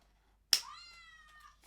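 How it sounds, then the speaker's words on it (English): An interactive Nuzzy Loves plush toy cat gives a single close, clear electronic meow that starts with a sharp onset and trails off in a drawn-out, complaining tone. "The cat complained there because these Nuzzy Loves, they respond to sound"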